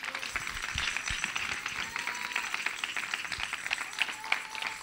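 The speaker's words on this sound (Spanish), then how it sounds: "Dale un aplauso a Dios en este día." A church congregation claps and applauds during an evangelical sermon, a continuous patter of many hands at moderate distance that stays fairly even throughout, with no clear speech over it.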